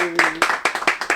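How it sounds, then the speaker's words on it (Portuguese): Studio audience clapping for a guest on a Portuguese-language podcast, a short burst of several sharp hand claps following a brief tone, loud and close. "Arthur Bender, uma salva de palmas, galera."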